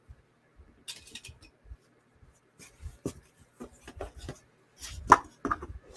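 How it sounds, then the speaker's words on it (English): Scattered light scrapes, taps and clicks from idly handling a knife-like letter opener, quiet and close, coming in uneven bursts separated by near silence. "why am I playing with this knife, with this letter opener?"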